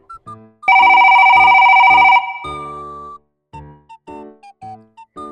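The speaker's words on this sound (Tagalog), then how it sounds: "Tawagan na muna natin ang ating pick-up." A phone rings out while calling a pick-up point during a delivery rider's job, a loud electronic ringtone with a steady tone burst followed by short melodic beeps, close and clear with no talk.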